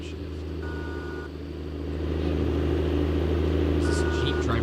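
In American Truck Simulator, a truck engine hums low and steady, its drone rising in load midway through the downshift, while a voice talks quietly underneath and faint beeping chimes sound twice.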